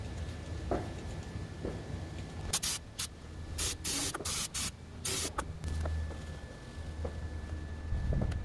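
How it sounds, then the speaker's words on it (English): An aerosol can of auto body intake cleaner is sprayed on a Jeep WJ Grand Cherokee in several short, loud, hissing bursts close to the microphone, separated by brief gaps, with quieter background noise before and after. "The auto body intake cleaner"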